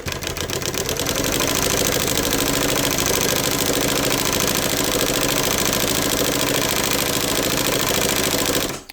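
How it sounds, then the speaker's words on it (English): A chain stitch embroidery machine driven by a 3/4 horsepower Conso servo motor on a small pulley runs at 2100 speed, giving a loud, steady, fast mechanical clatter that holds for nearly nine seconds before cutting off abruptly. "My machine right now is set on 2100 speed. I'm using a 3/4 horsepower Conso servo motor with the small pulley."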